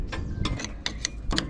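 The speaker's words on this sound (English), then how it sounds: "I think I'll be able to get a spanner on here and to untie from the other side" A spanner works at a stuck threaded handbrake fitting on a Rover, giving four quick metallic ratcheting clicks in an uneven rhythm, close and crisp.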